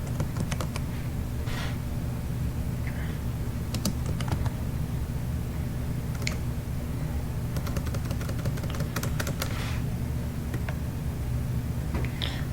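Keys on a computer keyboard clatter in scattered bursts of quick taps while a control panel search is typed, quiet and close over a steady low hum, with no talking.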